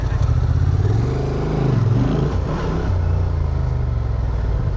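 A motorcycle engine, Suzuki V-Strom or Honda Transalp, rumbles loud and close as the rider adds throttle, the deep drone swelling briefly before settling back to a steady idle-like pulse.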